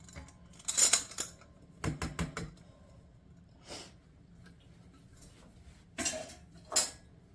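A utensil clinks and scrapes against a bowl while peas are stirred into a surimi filling for a savoury tart, in a few scattered bursts with quiet gaps between them.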